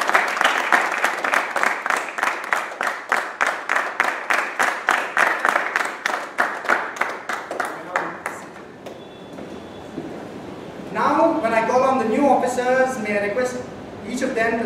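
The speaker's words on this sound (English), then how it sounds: "A good round of applause for them." A club audience at a Toastmasters officer installation claps in a fast, even, nearly unison rhythm for about eight seconds, then the clapping dies away and a voice begins speaking.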